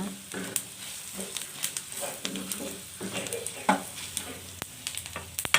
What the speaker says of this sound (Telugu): ఇది కూడా ఒక 1/2 minute ఫ్రై అవ్వనివ్వాలి